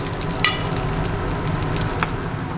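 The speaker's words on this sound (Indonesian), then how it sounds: "tumis dari bahan lengkuas dulu" Finely chopped galangal and turmeric sizzle steadily in a hot pan for a Balinese dish, a continuous close frying hiss broken by a couple of sharp scraping stirs.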